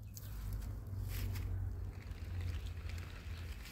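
Blower fan of a small Gemmy airblown Christmas reindeer inflatable, about 4 ft tall, running as it inflates: a steady, close low hum and rushing air that holds constant throughout, with no talk.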